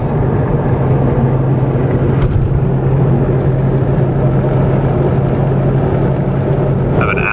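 A car roars steadily and loudly close by on a scenic countryside drive, a constant engine drone throughout with a quick rising whoosh near the end as another vehicle flies past.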